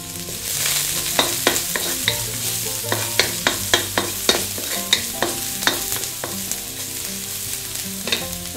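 Garlic and ginger stir-frying in a little oil in a wok, with a steady sizzle broken by regular scraping strokes of the spatula against the pan, loud and close.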